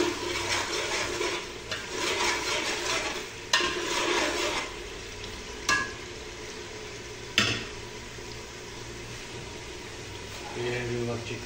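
Chicken is stirred and fried in a pot, giving bursts of scraping and sizzling with a few sharp clangs of a spoon against metal, fairly quiet overall.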